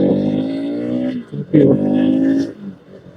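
A Bajaj Pulsar RS200 sport motorcycle engine hums and revs unevenly while riding, close by, with brief drops and surges in throttle.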